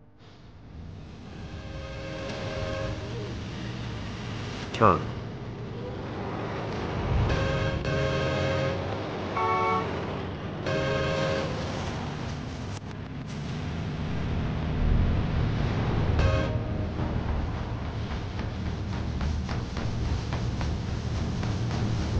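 A train rumbles past for a long stretch, with its horn sounding in several blasts over the rolling rail noise; one brief word is spoken.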